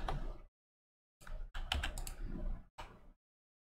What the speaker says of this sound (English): So we can continue typing